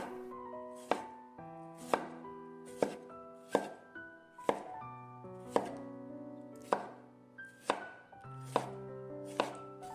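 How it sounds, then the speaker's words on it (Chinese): A knife cuts a washed tomato into small pieces on a board, with about a dozen crisp, evenly spaced chops, each followed by a brief ringing tail, with no talking. "然后给它切成小块"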